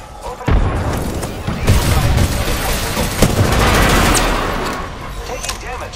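Grenade blasts and rapid gunfire in the battle royale shooter Apex Legends, with dense, continuous bursts of shots and booms over about six seconds and a sharp crack near the middle.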